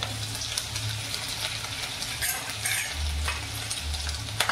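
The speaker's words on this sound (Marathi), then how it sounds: "ढवळून घ्यायचे आहे" Capsicum and potato fry in a pan with ginger, curry leaves and chili paste while being stirred: a steady close sizzle with scraping stir strokes and no voices.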